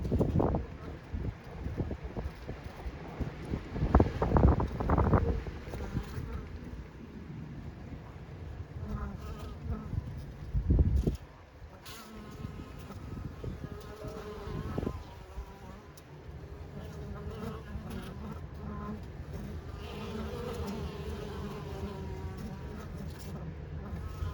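Honey bees flying into a Layens hive loaded with pollen, a steady close buzzing drone throughout, with occasional louder bursts and rustling as individual bees pass near.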